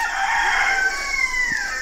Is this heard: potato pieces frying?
no